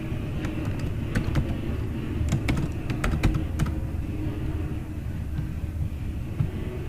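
Typing on a computer keyboard while entering Kotlin code: scattered key clicks in irregular short runs over a steady low background rumble, fairly close and with no voice.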